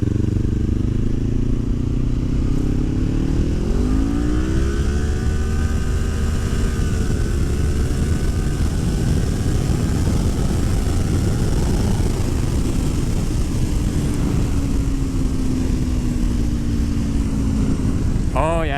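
Kawasaki Ninja 400 motorcycle with an Akrapovič exhaust pulling hard in fourth gear: a loud, continuous engine drone climbing steadily in pitch, with wind noise throughout.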